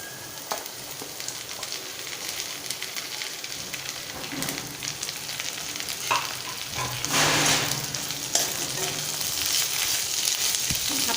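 Chopped okra frying in oil with softened onions for a tomato bhendi bhaji, a steady close sizzle and crackle throughout, swelling louder in the middle as the pieces are stirred.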